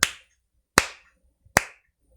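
Three sharp hand claps, evenly spaced about three-quarters of a second apart, close and loud in a quiet room, each with a short decaying tail, made as an audio sync test.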